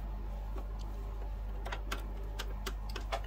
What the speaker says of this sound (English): let's head over to the sewing machine and stitch this down.